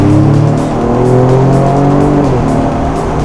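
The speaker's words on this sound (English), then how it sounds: "The exhaust sound through the speakers sounds amazing." A loud, throaty exhaust of a 2025 Ford Explorer ST in sport mode, partly played through the cabin speakers, roars steadily under acceleration, its engine note rising and shifting with gear changes, heard from inside the cabin.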